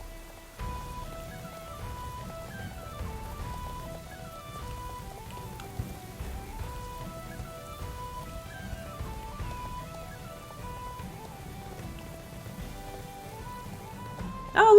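Ambient rain falls during a stormy ride in the Star Stable Online horse game, a soft steady hiss beneath a melodic music score throughout.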